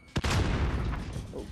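Gunfire in Call of Duty Modern Warfare from the Striker, a three-round burst gun: a sharp shot lands and then dense, booming, overlapping blasts roll on, loud and close.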